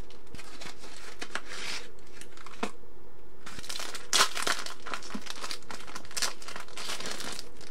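Parcel packaging from a mailbag crinkles and tears as it is opened, in a series of close, irregular crackling bursts separated by short pauses.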